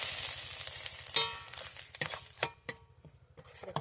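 Dry chili and five-spice seeds hit hot oil for a tempering, giving a bright crackling sizzle with a few sharp spattering pops and light utensil clinks, no voices.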